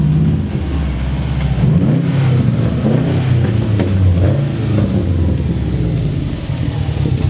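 A new Honda Civic Type R idles nearby with a steady low engine rumble and slight rises in pitch, continuous throughout at close range.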